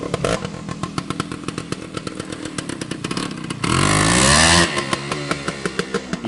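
A 1975 Suzuki TS185 motorcycle rides through snow and slush on pavement, its two-stroke engine popping in a rapid close rhythm that swells into a loud revving surge midway before settling back.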